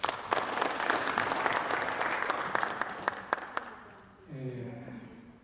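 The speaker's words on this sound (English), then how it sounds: "You can clap for me." Audience applause closing a session at an agricultural extension symposium, brisk clapping with distinct sharp claps that fades, then a voice begins speaking.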